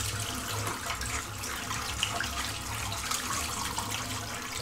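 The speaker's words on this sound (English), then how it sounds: "I'm just going to rinse the bowl out" Running tap water rinses out a shaving soap bowl that held a soft, slick shaving cream, a steady close rush of water splashing into the bowl with no talking.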